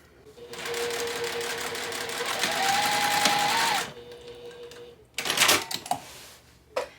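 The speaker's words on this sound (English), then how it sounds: "make sure that I back stitch here a couple times" A sewing machine runs steadily for a few seconds as it back stitches fabric, with a whirring motor hum and rapid needle clatter, then stops and gives a shorter burst plus a few handling clicks.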